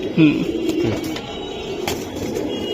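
Beji pigeons coo softly close by, a few low throaty calls in the first second, with a faint voice and light background noise underneath.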